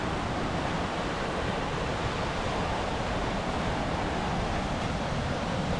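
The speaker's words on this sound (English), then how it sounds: "another beautiful waterfall." Hole in the Wall Falls in the Columbia River Gorge pours with a steady, broad rushing roar, constant and fairly loud throughout, with no voices.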